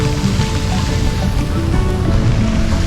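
Ocean surf rolls in along the sea near Savannah at sunset, a steady, loud broadband wash of waves with no clear breaks for about three seconds.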